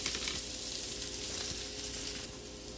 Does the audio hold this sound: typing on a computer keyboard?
no